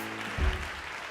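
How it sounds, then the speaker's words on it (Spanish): A church congregation claps during a Spanish-language sermon, a short burst of crowd applause with a brief thump of noise, fairly loud and continuous over the moment. "Denle un aplauso a Dios si usted lo cree."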